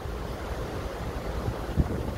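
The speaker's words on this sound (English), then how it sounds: "See, it's very windy." Steady wind roars and buffets against the microphone outdoors, with a low rumbling gust near the end and no voices.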